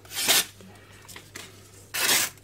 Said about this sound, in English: the tearing you're hearing is just wet spots